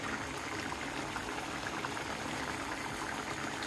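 A pot of aair fish curry made with fish from the Padma River boiling vigorously, a dense continuous bubbling hiss heard at close range, steady and fairly faint, with no voices.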